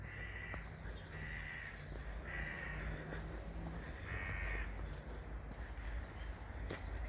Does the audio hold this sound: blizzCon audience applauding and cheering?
no